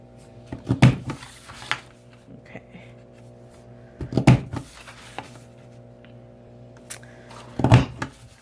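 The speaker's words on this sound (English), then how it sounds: "all we're going to do is just punch" A Stampin' Up gift box punch board punches through paper in three sharp, separate crunching clicks a few seconds apart, close and fairly loud, with small handling rustles between.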